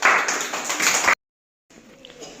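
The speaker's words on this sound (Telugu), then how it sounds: "క్లాప్స్ కొట్ట యష్మితాకి" A group of schoolchildren in a Grade 1–2 classroom clap together for a classmate in a brief, dense burst of applause that stops suddenly, followed by quieter room noise.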